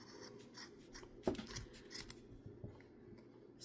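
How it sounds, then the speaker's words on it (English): Scissors snip through yarn while a pom pom is trimmed, a few quiet, close cuts with soft rubbing between them and no talking. "Cut these guys like so,"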